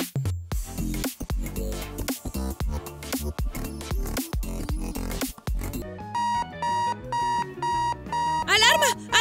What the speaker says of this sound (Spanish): ¡Alarma! ¡Alarma! ¡Alarma!